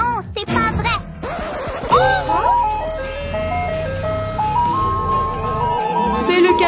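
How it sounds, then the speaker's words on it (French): A cartoon ice cream truck plays its tinkling, stepwise chime melody loudly and steadily, with animated children's voices and excited speech over the start and the tune running under it. "C'est le camion de glace."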